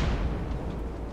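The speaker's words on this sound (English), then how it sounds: "Is that an AA shooting?" Anti-aircraft fire in the War Thunder video game, a dense, steady rumble of distant booming shots that blend into continuous low, heavy gunfire.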